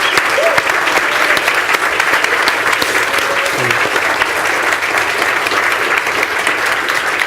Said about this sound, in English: we just thank them in a traditional fashion, a round of applause